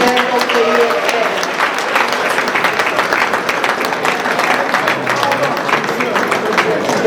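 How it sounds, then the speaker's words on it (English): Crowd applause for the president of the EFF at a political rally, a dense, sustained wash of clapping that stays loud and steady throughout without letting up. "Another round of applause for the President of the EFF."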